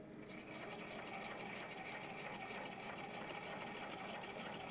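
A sewing machine stitches fabric pieces together with a steady rapid mechanical chatter, close but fairly quiet, running continuously.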